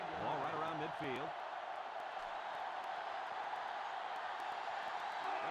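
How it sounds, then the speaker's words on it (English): Stadium crowd noise from the PlayStation 2 football game NCAA Football 2005, a steady dense roar sustained throughout, with a brief voice near the start. "The crowd is really letting him hear it."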